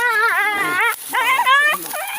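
Dog caught in a buffalo's horns, whimpering and yelping in high wavering cries, close and loud, in two main bursts with a brief gap and a shorter whine at the end.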